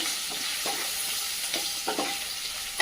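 Turmeric sizzles in hot oil for a Marathi-style tur dal varan, with a steady fry hiss under repeated scraping stir strokes from a spoon in the pan, close and continuous, no talk.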